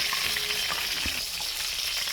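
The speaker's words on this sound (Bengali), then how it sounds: "দিয়ে দিচ্ছি পেঁয়াজ পেঁয়াজটা হালকা একটু লাল করে নিব" Onions dropped into a pan after fish has been fried hiss and crackle in hot oil, a close, dense sizzle with a few sharp pops and the scrape of stirring, no voices present.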